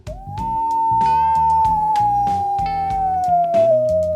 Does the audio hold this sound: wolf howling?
yes